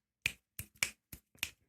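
Finger snaps from a song: five or six crisp, dry snaps in an uneven rhythm, close and isolated against silence.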